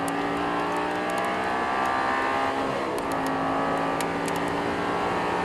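An Audi R8 engine in the Assetto Corsa racing game at Paul Ricard holds a loud, steady high-revving drone throughout, with no voices over it.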